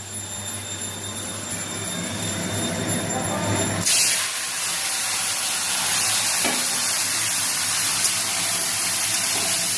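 Marinated lati and fish drop into hot oil, setting off a sudden loud, broad sizzle that holds steady and close, with faint spatters popping through it.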